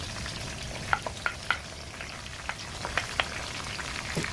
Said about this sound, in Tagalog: now I'm going to saute the onion first